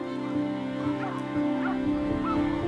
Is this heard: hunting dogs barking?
yes